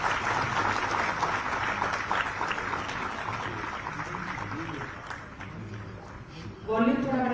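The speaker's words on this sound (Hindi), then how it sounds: "तालियां जोरदार हो।" An audience applauds at a Jharkhand tourism department logo launch event, its clapping spread across the clip under an amplified speaker's voice, with a brief burst of louder sound near the end.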